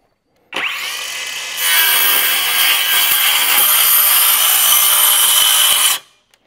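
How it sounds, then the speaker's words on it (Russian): A cordless YUANSEN circular saw spins up, then bites into wood with a loud, close, sustained whining cut lasting several seconds before stopping abruptly. "Буду пробовать сразу на скорости, запихнуть эту пилку."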